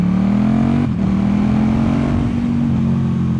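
A KTM 1290 Super Duke R motorcycle on the move gives off a loud, steady engine drone from close by, its pitch dipping briefly as if shifting gear and then holding smooth and even.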